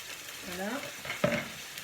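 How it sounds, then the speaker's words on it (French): Purple artichoke pieces laid into hot oil give a steady, close crackling sizzle, with a faint tonal whine partway through and a brief sharp clunk near the end. "Voilà, l'huile commence à crépiter."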